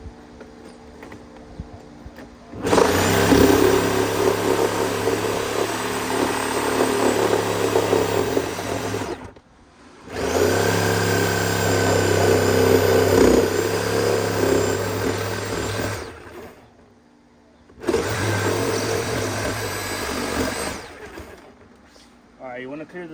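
A power saw blade cuts into the console of a Champion 204DCX boat in three long bursts of loud, steady whining and grinding, split by short pauses. Faint talk comes through between the cuts.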